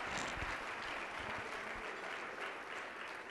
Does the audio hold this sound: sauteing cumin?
no